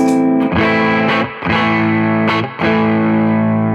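Electric guitar driven through a Tube Screamer overdrive pedal with pushed-forward midrange, three loud sustained strummed chords ringing in turn with short gaps between them.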